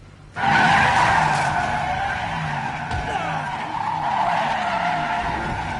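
A car in Resident Evil 7 breaks into a sudden loud tire skid that holds as a sustained screech with engine drone for several seconds, fairly close and dominant.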